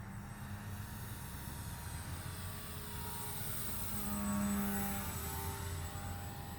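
A Horizon Hobby Timber 1.5 electric RC plane on floats passes overhead, its motor a faint steady whine with tonal harmonics that swells briefly near the end before easing off.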